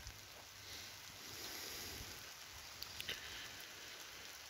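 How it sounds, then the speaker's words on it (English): Steady rain falls outdoors at night near a forest shelter house, a soft continuous wash of drops with a few brief louder taps, heard alone without talk. "it's raining and I'm getting wet"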